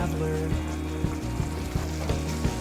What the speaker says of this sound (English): this time I'll be frying the turkey